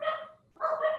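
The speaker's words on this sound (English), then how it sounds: "I'm sorry if you can hear my dogs barking" Household dogs bark nearby, two loud bursts of barking separated by a short pause, with no talking over them.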